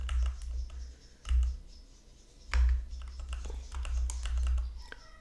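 Keystrokes on a computer keyboard clatter close by in irregular bursts, a few louder clicks standing out over a low steady hum, with no speech.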